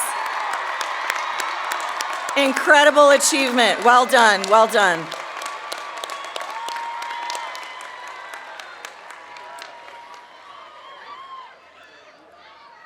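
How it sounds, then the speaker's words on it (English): A commencement audience applauds and cheers honors students standing at a university graduation ceremony, loud clapping and whoops that fade out while a voice speaks over the start. "Will all of our honors students please rise to get your round of applause?"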